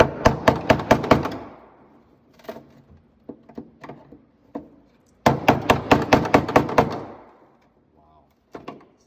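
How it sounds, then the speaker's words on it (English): A hammer strikes an epoxied part on a Lamborghini in two loud, rapid bursts of sharp metallic knocks, with a few scattered single taps between them. "He's got a hammer, you guys."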